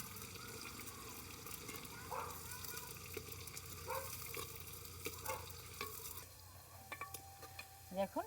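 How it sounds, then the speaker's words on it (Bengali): Chopped onion and garlic frying in a hot clay pot, a faint steady sizzle with soft scraping stirs, and a few sharper clicks near the end. "পেঁয়াজ আর রসুন, এগুলো কুচি করে নিয়েছিলাম, তো ওগুলো দিয়ে দিচ্ছি। এগুলো একটু ভেজে নেব।"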